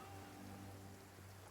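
Rain pours steadily in a video game scene, a faint, even hiss of a downpour with a low hum running beneath it throughout.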